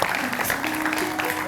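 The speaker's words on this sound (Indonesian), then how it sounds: "Kita kasih tepuk tangan dong, sungguh luar biasa sekali." Audience applause at an Indonesian sports talk show about athlete training for the 2024 North Sumatra PON games, a steady, dense wash of clapping that holds evenly through the short moment.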